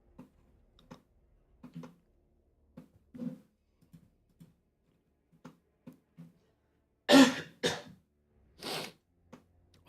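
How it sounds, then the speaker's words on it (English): Quiet scattered clicks and soft noises, then a few harsh, close coughs burst out near the end, one after another. "I'm coughing a lot today."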